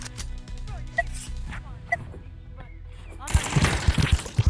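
Gunfire from a DMR rifle in the video game Animal Rivals, with a few isolated shots early on, then a dense burst of rapid shots near the end over busy game sounds.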